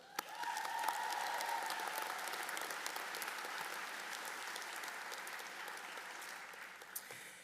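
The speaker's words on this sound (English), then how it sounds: "give a round of applause for the teammates who've helped us get this far" A law school commencement crowd gives sustained applause for teammates, a broad, even wash of many hands clapping at a moderate distance, holding steady throughout.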